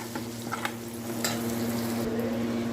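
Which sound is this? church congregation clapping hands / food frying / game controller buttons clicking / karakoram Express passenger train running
food frying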